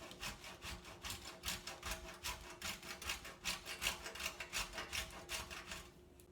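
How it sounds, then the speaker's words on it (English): Something is rubbed briskly back and forth on a metal box grater for Caesar salad, making a steady run of close, rhythmic rasping strokes for several seconds with no voices. "So we'll grind about 1/4 cup on the box grater."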